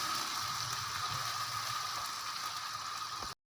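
Chicken with garam masala sizzles steadily in a hot pan, giving a continuous close frying hiss that cuts off abruptly at the end.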